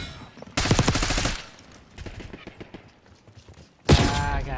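Shotgun blasts in Black Ops 6 free-for-all multiplayer: a loud burst of rapid booming shots, a quieter stretch with scattered thuds, then another sharp heavy blast near the end.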